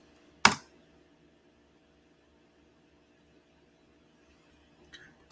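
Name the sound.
pressing enter on a computer keyboard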